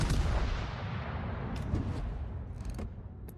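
Naval turrets firing in a ship combat video game: a loud, booming salvo that rolls into a long rumbling decay, with a few faint crackling bursts toward the end.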